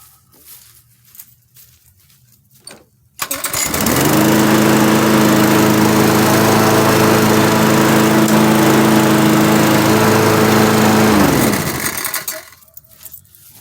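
A riding lawn mower engine starts up and runs at a loud, steady drone for several seconds with its transmission engaged on grass, then cuts off into quiet.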